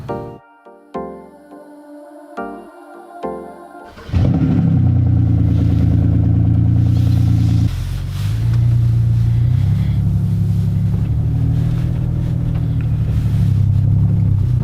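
Car driving on a road in mild winter weather: after a brief melodic opening, a steady, loud low engine and road rumble fills the cabin and holds without pause, briefly dipping once midway.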